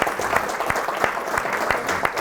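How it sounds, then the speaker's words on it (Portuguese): Church congregation claps after a baptism, a short burst of applause with a few sharp, louder individual claps standing out in a roughly regular rhythm, close and lively with no talking on top. "Dá um aplauso ao Senhor."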